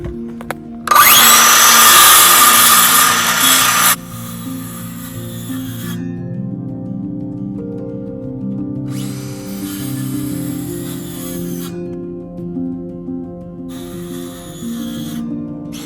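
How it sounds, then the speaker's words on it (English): Power saw cutting through wood for a garden fence, a loud burst of about three seconds near the start followed by two shorter, quieter cutting passes over a steady low hum. "See if we can make this cut without getting all the sawdust back in my eyes."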